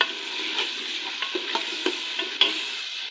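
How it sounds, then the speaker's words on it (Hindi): Onions fry in ghee in a pan, with a steady sizzle and a few sharp stirring scrapes close by, and no talking. "इसी घी के अंदर मैंने प्याज डाल दिए हैं और अब हम प्याज को करेंगे फ्राई"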